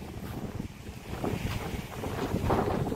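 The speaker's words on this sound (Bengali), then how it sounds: "আমি সমুদ্র পাড়ে প্রচন্ড বাতাস" Strong wind buffets the microphone at a seashore, its gusty roar mixed with the wash of sea waves, loud and continuous with no talk.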